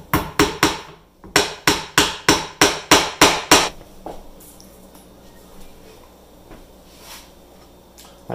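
Screws being driven into a pre-drilled wooden board, about eleven sharp, evenly spaced impacts close by over roughly four seconds, then a quiet room with faint rustling.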